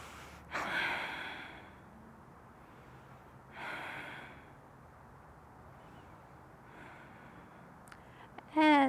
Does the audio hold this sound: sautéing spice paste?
no